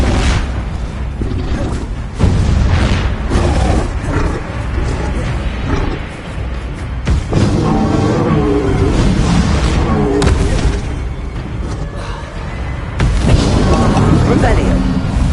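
Confringo fire-blast spell cast in the Hogwarts Legacy video game, a loud booming burst amid continuous dense battle noise with repeated spell blasts and shouted incantations over it.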